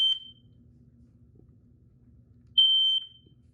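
A Kidde smoke alarm under test gives two short, piercing high beeps, one at the very start and a longer one about two and a half seconds later, with a low hum and faint rustling in between.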